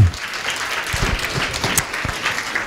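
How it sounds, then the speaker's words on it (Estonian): Applause from an audience at a vocational skills showcase event at a vocational training centre, a steady wash of clapping filling the short moment, with a few louder low thumps and faint voices underneath. "Teeme neidudele ühe sooja aplausi ka."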